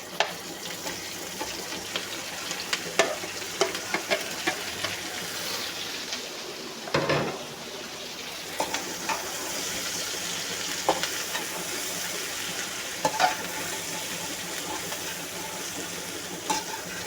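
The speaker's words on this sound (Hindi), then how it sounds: "मैं सारी वेजिटेबल डाल रही हूँ" Vegetables hit a hot pan with browned garlic for chilli chicken and egg fried rice, giving a steady broad sizzle with scattered clinks and stirring scrapes, plus one louder whoosh of frying midway.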